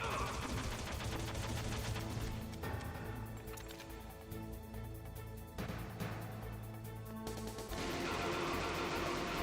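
Rapid automatic gunfire from the PlayStation 1 game Metal Gear Solid rattles in dense, loud bursts with a couple of short lulls, layered over game ambience.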